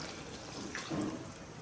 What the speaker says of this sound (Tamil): தண்ணி ஊற்றிக்கலாம்